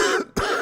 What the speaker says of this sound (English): he does the open mouth cough